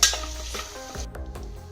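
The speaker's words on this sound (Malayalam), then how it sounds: "നമുക്ക് കുറച്ച് കറിവേപ്പില ഇട്ട് കൊടുക്കാം പിന്നെ നമ്മൾ സവാള ഇട്ട് കൊടുക്കാം സവാള ഒന്ന് മൂത്ത് വെച്ചേ" Onions and curry leaves fry in a pan for a jackfruit curry, a steady close sizzle with a few spoon scrapes and knocks against the pan, no voices.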